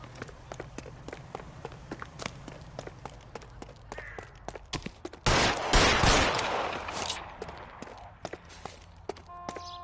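Gunfire in the video game L.A. Noire: a scattered string of sharp, close cracks, swelling into a louder burst of rapid shots midway, then more sporadic reports over a low background.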